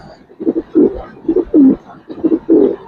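Domestic giribaz pigeons coo close by, a rhythmic series of soft, throaty, bubbling calls repeating in quick bursts with no voices over them.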